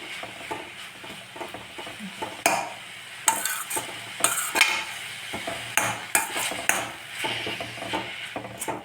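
Vegetables sauté in a pan for a rava tiffin dish, with a steady sizzle broken by frequent sharp scrapes and clinks of a spoon stirring against the pan. The sounds are close and irregular, and no one talks.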